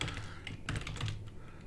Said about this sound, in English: I just start typing